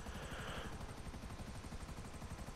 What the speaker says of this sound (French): C'est quand même un hélico qui est très très rapide, qui est vachement maniable et puis il est pas très gros